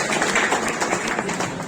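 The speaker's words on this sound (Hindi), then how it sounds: "ताली बजाओ," An audience claps together at a municipal farewell ceremony for retiring employees, a dense, continuous wash of applause close by that holds steady throughout.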